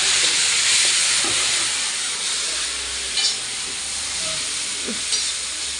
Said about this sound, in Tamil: இப்போ நம்ம தக்காளி கொட்டி நல்லா வதக்கிடலாம்